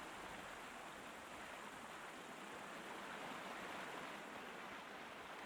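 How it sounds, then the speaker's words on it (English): Flowing water in the Sherlock Holmes: Crimes & Punishments game makes a steady, dense rushing hiss like a stream or small waterfall, constant and unbroken throughout, with no other sounds over it. "This water is so loud."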